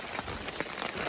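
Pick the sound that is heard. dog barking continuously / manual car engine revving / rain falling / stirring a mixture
rain falling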